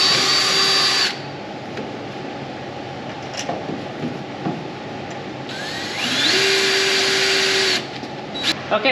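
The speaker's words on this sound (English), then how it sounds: "now we got our holes drilled" A power drill whines loudly in two long bursts drilling holes, with a quieter stretch of clicks and handling noise between them and a few short spins at the end.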